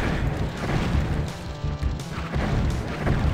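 Repeated weapon fire against Ophidian serpent enemies in the game Heretic (Shadow of the Serpent Riders), heard as dense, steady booming blasts and impacts that run continuously through the whole stretch with no pauses.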